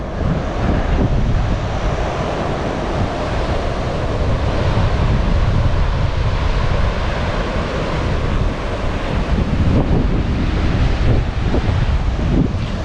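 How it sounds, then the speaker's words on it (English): Strong wind at the top of a lookout in a New South Wales national park buffets the microphone in a constant roar, loud and unbroken, with no talking. "it's a bit windy up here, so I'm hoping that the audio is good"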